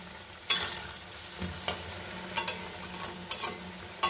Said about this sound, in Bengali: এরকম করে সবগুলো আমি ভেজে নেব।